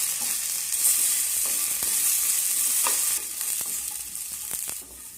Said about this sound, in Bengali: আলু দিয়ে দেওয়ার পর আমি নেড়ে চেড়ে একটু লাল লাল করে আলুগুলোকে ভেজে